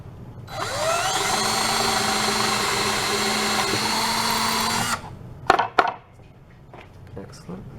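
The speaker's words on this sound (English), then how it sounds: "we're going to drill an 1/8 inch hole through the mark that was just made with the nail" A power drill whines loudly for about four seconds as it bores a 1/8 inch hole through wood on a guitar, then stops, followed by a few clunks and handling sounds.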